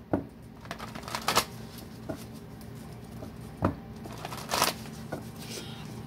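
Tarot cards are shuffled and handled close by in several quick riffling bursts separated by short pauses, soft papery flicks and slaps with no talking.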